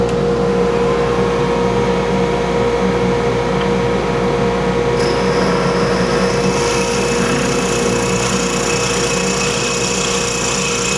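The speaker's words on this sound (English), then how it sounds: "A 5/8 speed bore drill bit just to core out the center, get it a little bit more opened up." A 5/8 spade bore drill bit cores out the center of a stainless ring blank on a lathe, giving a continuous loud motor hum with a harsh high grinding edge that rises partway through.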